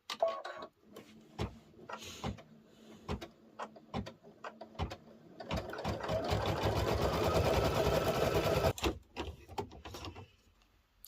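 An embroidery machine stitching a word into fabric in a hoop gives sparse clicks and taps at first, then a fast, steady mechanical whirring stitch for several seconds before stopping, close and fairly quiet.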